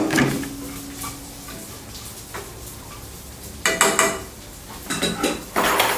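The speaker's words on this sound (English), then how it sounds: "Add the leftover rice to the oil." Leftover rice going into oil flavored with barbecue pork, shrimp and garlic for Yang Chow fried rice, mostly heard as metal clanks and scrapes of utensils against the pan, with bursts of clattering near the end over faint sizzle.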